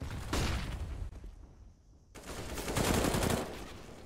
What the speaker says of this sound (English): More shots coming through.